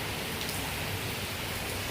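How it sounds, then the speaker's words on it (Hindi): Heavy rain falls steadily and densely throughout, a continuous wash of drumming with no voices present. "देखिए कितनी तेज़ बारिश हो रही है"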